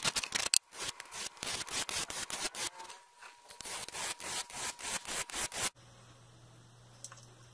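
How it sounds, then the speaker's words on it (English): Kitchen knives are drawn across a sharpener in quick repeated strokes, a close, gritty rasping rhythm of about two strokes per second with a brief pause midway, then a low hum as it stops. "I'm just going to be sharpening all my knives."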